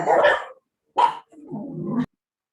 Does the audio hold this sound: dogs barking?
yes